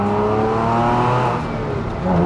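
A Porsche 911 997 Carrera S Cabriolet's 355-horsepower flat-six engine runs steadily at moderate revs, a deep, continuous mechanical hum with rich harmonic drone, close and loud throughout.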